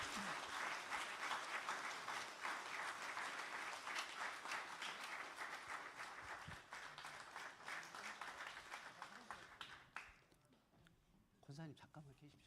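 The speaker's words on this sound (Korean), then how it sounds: "박수 부탁드리겠습니다." A church congregation at a Korean Presbyterian Wednesday worship service gives sustained, dense applause for about ten seconds, then it thins out to a few scattered claps.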